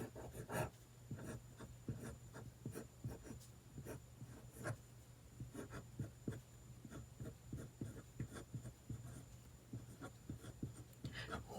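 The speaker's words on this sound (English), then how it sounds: "Now for this side, I do need my ruler again. And at the top, I just write" A pen scratches across paper guided by a ruler, a steady run of close, quiet strokes that continues without pause throughout.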